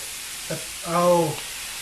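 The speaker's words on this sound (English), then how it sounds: "Give it a quick stir. They're very good, those electric fry pans." Stir fry sizzles in an electric fry pan with cauliflower and seasonings, a steady soft hiss throughout, broken by a brief voiced sound partway through.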